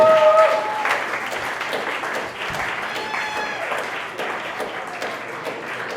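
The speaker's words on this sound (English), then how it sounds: "Clap it up for all the comedians you heard tonight" Steady audience applause rises from a crowd at a comedy show, loud and continuous for the whole stretch, dipping slightly midway then holding as a dense wash of clapping.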